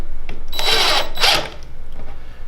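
A power drill drives screws back into the crown of an Intelli-Shade motorhead, two short close whirring bursts with a brief pause between them, followed by quieter handling noise.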